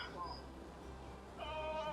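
Goats bleat in a wavering, nasal call near the end, with a fainter bleat earlier, over low background rumble and some murmuring voices.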